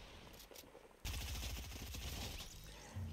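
Assault rifle fire from Fortnite rattles out in a fast, sustained automatic burst after a brief quiet lead-in, fairly faint overall, with a fresh volley starting right at the end.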